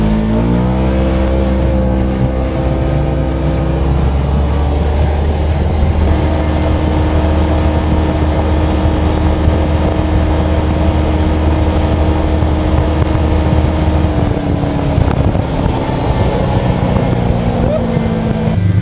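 A 2020 Kawasaki KRX1000 side-by-side accelerates toward top speed on a cold Manitoba run, its engine a loud, sustained drone that climbs through gear changes over rough wind and ground noise, with voices mixed in.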